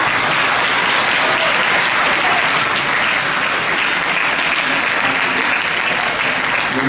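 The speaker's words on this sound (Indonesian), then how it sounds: "Tepuk tangan, monggo gak apa-apa." Loud, dense applause from an audience at a religious lecture held for an Islamic boarding school's exam celebration in Balikpapan, steady and sustained for about seven seconds with no break.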